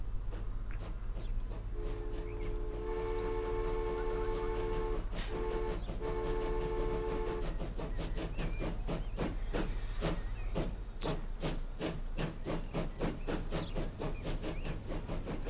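A three-coach train runs in the rail-building game Transport Fever, with a steady low rumble, a sustained tonal whine or horn partway through, and rapid rhythmic clicking of wheels over track joints growing denser toward the end.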